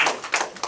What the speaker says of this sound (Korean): 큰 박수로 우리 함께 시작해 볼까요?